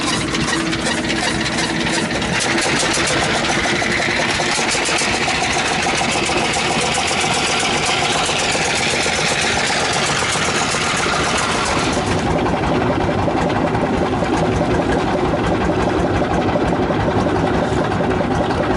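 A water bus boat engine runs steadily near Komodo Island, Indonesia, a loud continuous mechanical drone with a rattling, vibrating texture that holds throughout without pause.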